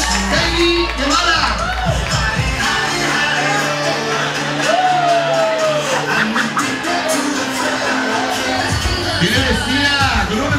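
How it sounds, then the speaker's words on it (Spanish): Crowd at a bikini contest in a sports bar cheers and shouts over loud music, a dense, busy roar of voices with scattered whoops, sustained throughout. "Un aplauso fuerte, fuerte, fuerte."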